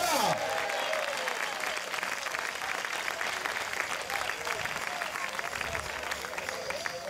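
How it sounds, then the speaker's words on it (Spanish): Sustained applause from a church congregation at a joint Christian worship service in La Unión, El Salvador, steady and dense throughout, with voices mixed in beneath the clapping. "Dele fuerte aplauso al Señor en esta hora."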